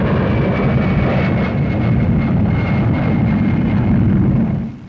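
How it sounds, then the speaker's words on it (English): A Flying Wing aircraft passing at the Farnborough air show, a loud, steady broadband engine roar that holds throughout and then fades away at the very end. "Also in action was the Flying Wing, a revolutionary design linking the present with an exciting future."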